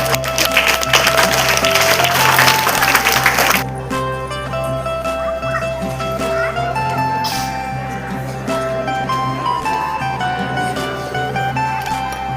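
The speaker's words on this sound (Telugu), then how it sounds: "వారిని పెద్ద చప్పట్లతో వేదిక మీదకు ఆహ్వానిద్దాం" A school audience at a Republic Day celebration bursts into loud, dense clapping to welcome students onto the stage, then the applause drops away after a few seconds into quieter hall noise and ringing tones.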